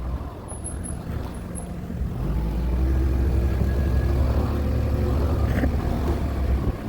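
Heavy road traffic on a hill road in Ooty, a continuous loud low engine rumble of idling and slowly moving vehicles close by, with a faint high whine near the start.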